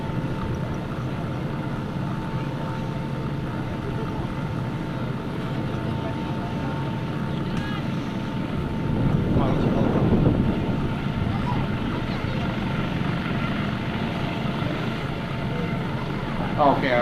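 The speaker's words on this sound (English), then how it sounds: "Okay, our helicopter, the HH-65 Dauphin helicopter, has rescued this person." An HH-65 Dauphin helicopter hovers during a rescue demonstration at the 2003 Wheels & Wings airshow, a steady distant rotor and engine drone mixed with wind buffeting that swells briefly midway.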